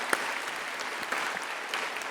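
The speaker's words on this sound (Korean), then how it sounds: "장동민 목사님께 다시 한 번 더 감사의 박수를 올리도록 하겠습니다" A church congregation applauds steadily at a Sunday worship service in Gyeongsan Jungang Church, a dense wash of many hands clapping at moderate level, with no speech over it.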